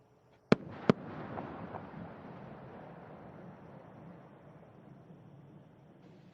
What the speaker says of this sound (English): the space shuttle announces its arrival at the launch site with its signature sound of twin sonic booms